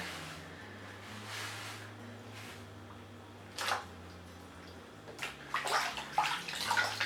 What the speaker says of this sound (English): So I've just got a bowl of water down here.